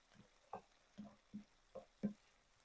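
A spoon stirs Schezwan chilli paneer sauce frying in a pan, giving five soft, faint scrapes and taps at a steady, unhurried pace over a quiet background.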